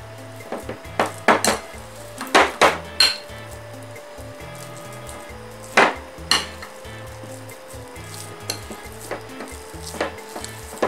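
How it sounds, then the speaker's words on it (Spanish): Mashed purple sweet potato is pressed and scraped in a pot, with sharp clinks and knocks of utensil against metal at irregular intervals over a low background hum. "La vamos a aplastar como si fuera puré de papa."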